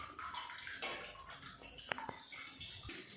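Leafy greens, dori patwa bhaji, are rinsed in water, giving faint sloshing, trickling and a couple of sharp drips or splashes at close range.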